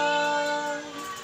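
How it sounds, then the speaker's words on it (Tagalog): A house cat meows loudly and close, one drawn-out harmonic cry that trails off over about a second, heard in a home kitchen where fish is being steamed; no talking. "Maghintay ka, miyaw ka ng miyaw."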